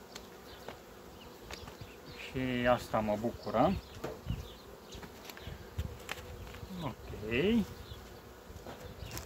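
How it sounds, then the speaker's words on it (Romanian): Bees buzz around a bee cake laced with essential oil set at the hives, a continuous close drone with individual insects flying past the microphone while someone talks over them. "Interesul albine este foarte mare"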